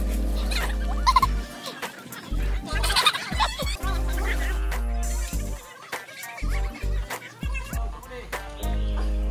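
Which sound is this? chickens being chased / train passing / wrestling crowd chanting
chickens being chased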